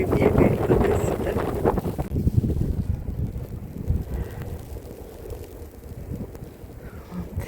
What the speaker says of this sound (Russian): Вот ветер как дунет, с ног сбивает.